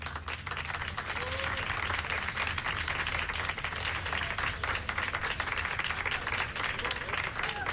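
An audience gives a thunderous welcome to the mayor of Aguassul, a dense, continuous roar of clapping hands that holds steady and loud for several seconds, with faint voices mixed underneath.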